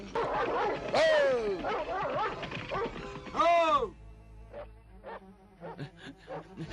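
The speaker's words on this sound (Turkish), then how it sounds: "Köpeğim kokusundan onu bulacak." Cartoon dog yapping and whimpering in short bursts, loud and close, with excited speech and a voice layered over the barks in the first half, then quieter yips alone afterward.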